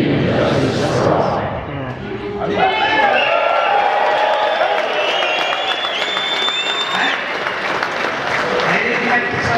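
A crowd at a 2019 pledge gathering in Moab claps and cheers right after the Pledge of Allegiance. The applause is loud and sustained, with whoops and voices rising through it.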